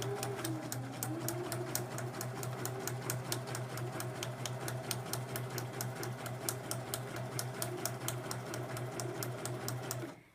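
A sewing machine stitches forward in a fast, steady run of even mechanical ticks and a low motor hum, close and continuous before stopping at the end.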